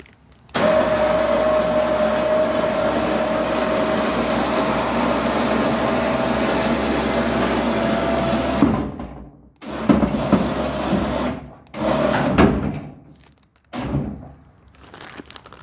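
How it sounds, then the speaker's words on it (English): An electric winch hauls an Argo XTI amphibious vehicle onto a trailer, a loud steady motor whine with mechanical grinding running for several seconds, then stopping and starting again in a few shorter pulls separated by brief pauses, with no speech. "The winch."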